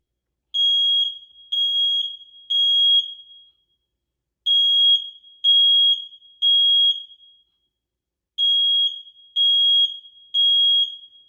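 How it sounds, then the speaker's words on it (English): An apartment building's fire alarm sounds during a test, giving three groups of three loud, shrill beeps separated by brief pauses in the classic temporal pattern. "my apartment complex was doing a fire alarm test, which actually woke me up."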